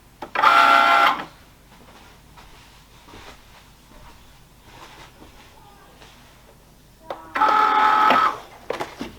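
Vinyl cutting machine slicing decal vinyl, with two loud, close bursts of whirring motor and carriage movement separated by quieter low mechanical shuffling.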